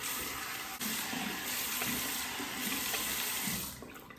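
Warm water from a tap runs steadily into a sink before a shave, a close, continuous splashing rush that holds for the whole stretch and tapers slightly at the end.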